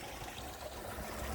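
Water from a garden koi pond waterfall tumbles in a steady, soft, continuous splash and trickle, faint and unbroken, with no voices.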